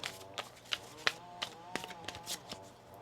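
Tarot cards are shuffled by hand, close and crisp, with a quick run of riffling bursts and soft slaps at an uneven rhythm.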